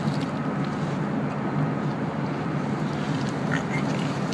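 A Dremel rotary tool cutting metal for a hobo stove, a steady, continuous whirring grind heard close with no pauses.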